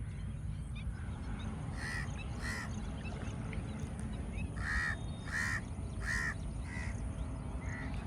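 Several crows caw in short repeated calls in Kanchipuram, a few pairs and triplets, over a steady low background rumble, moderately distant.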